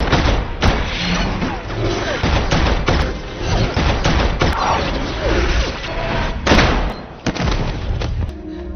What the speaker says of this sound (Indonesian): Chris pun memaksimalkan kemampuan penerawangannya untuk menghindari peluru yang Smith tembakan